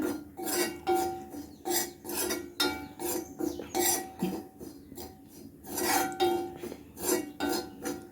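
Roasted grated coconut and spice powder are stirred in a pan with a spoon, giving repeated rhythmic scraping strokes, close and fairly loud, about two per second.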